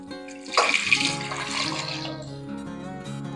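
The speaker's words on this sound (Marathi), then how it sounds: "आता यामध्ये आपण पाणी घालून घेऊ." Water runs into a pressure cooker holding potatoes, a sudden splashing pour that rises and then settles into a steady filling gurgle, close and alone.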